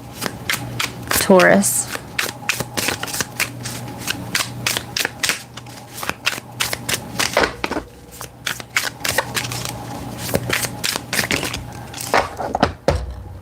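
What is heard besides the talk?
new tarot cards being shuffled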